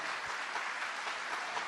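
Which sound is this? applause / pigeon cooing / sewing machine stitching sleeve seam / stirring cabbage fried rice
applause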